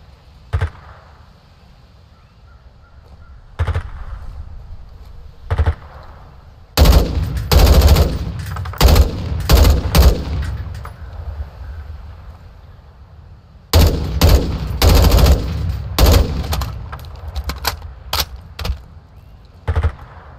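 Automatic gunfire in a Call of Duty: MW2 Warzone 2.0 DMZ match, with a few isolated sharp shots early, then two long stretches of loud rapid bursts, close and dominant with no voices.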